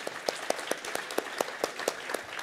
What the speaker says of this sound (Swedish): En applåd till dem.